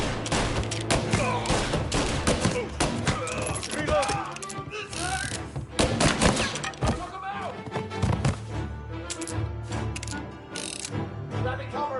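Gunfire in the Mafia video game, dense bursts of shots and fusillades with heavy thumps running throughout a loud battle, mixed with game music and voices speaking over the action.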